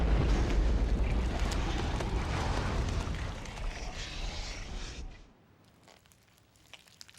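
A bomb explosion in the video game Parasite Eve roars as a loud, sustained rumbling blast that slowly thins out and drops away abruptly after about five seconds, leaving faint scattered debris clicks.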